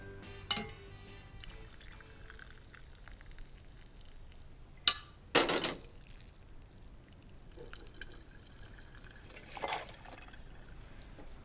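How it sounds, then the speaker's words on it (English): Water goes into a cooking pot at home, with a few short sloshing pours and splashes separated by quiet stretches, fairly faint amid light kitchen clatter. "Now it needs some water."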